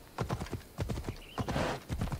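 A horse's hooves clip-clop at a brisk, steady gait in Assassin's Creed Odyssey, close and clear, with a brief whinny partway through.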